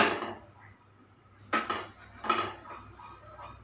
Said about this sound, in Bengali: এখানে আরেকটা কড়াই বসিয়ে দিলাম